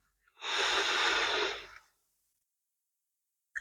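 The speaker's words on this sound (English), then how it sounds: "And again, inhale and exhale." One long, slow breath during a yoga child's pose practice, a smooth airy hiss lasting over a second, close to the microphone, fading into silence afterward.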